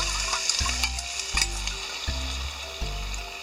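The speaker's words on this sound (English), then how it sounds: "When the pork is almost cooked, add the sauce." Pork nearly cooked sizzles loudly in a pan with added sauce for a Hokkaido butadon pork bowl, a constant close frying hiss broken by several evenly spaced stirring knocks.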